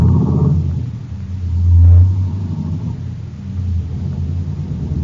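A car engine accelerates along a road in an old radio drama, a steady low rumble that swells to a louder revving peak midway and then settles back into a continuous drone, with no voices over it.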